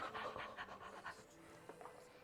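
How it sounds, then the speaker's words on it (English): A dog pants in the background of a home kitchen, rapid rhythmic breaths repeating steadily and fairly faint, with no talk over it. "You can just hear the dog in the background. Yeah,"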